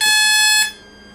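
A single loud electronic chime from an RC model's electronic speed controller during programming, a steady high multi-tone beep that rings for about half a second and then cuts off, leaving quiet background hum.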